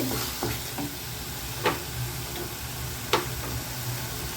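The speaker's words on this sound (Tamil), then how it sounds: "எண்ணெயிலே இந்த மசாலா கொஞ்சம் ஓரளவுக்கு நல்லா வதக்கி விடுங்க" Masala sautés in oil for a spicy paneer gravy, a steady soft sizzle under which a spoon scrapes the pan, with a few sharper clinks at intervals, close and without talk.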